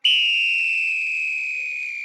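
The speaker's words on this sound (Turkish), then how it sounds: "ben düdük çalmayı çok seviyorum" A single long whistle blast, shrill and steady, loud and close, slowly fading over about two seconds with nothing else heard.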